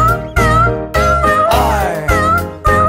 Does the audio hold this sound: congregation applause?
no